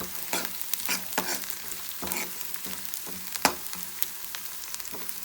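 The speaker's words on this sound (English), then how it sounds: "Let my curry leaves also get crispy." Curry leaves and onion crackle and sizzle in hot oil for Andhra-style palak pappu, with a steady frying hiss and frequent sharp spatters and spoon strokes, close and without talk.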